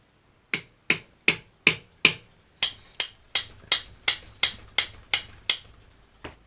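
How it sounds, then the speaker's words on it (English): A spanner slips repeatedly on a welded part, giving about fourteen sharp metallic clicks in an even rhythm with a brief gap partway through and a final click at the end, close and with no talk. "The spanner's actually slipping now."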